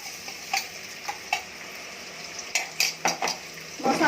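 A spoon stirring masala paste in a cooking pot, scraping and clinking against the metal in a few separate strokes over a steady sizzle of oil.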